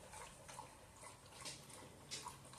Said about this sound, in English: Doggy drinking water.